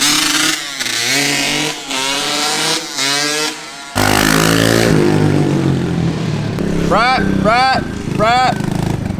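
A small dirt bike engine revs and buzzes loudly in bursts, with sharp rising whines of throttle blips near the end, while people talk over it.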